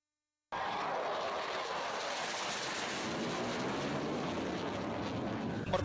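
Air force aircraft roar at a live-fire power demonstration exercise on an air weapons range in Indonesia, a loud, steady broadband engine rush that starts abruptly and holds for several seconds, with no voices.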